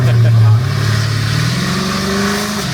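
Loud modified Jaguar F-Type engine revving hard, then settling into a deep rumbling idle with rising and falling pitch, very close and dominant, with people talking over it.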